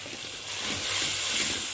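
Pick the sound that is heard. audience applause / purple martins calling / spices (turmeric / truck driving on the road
spices (turmeric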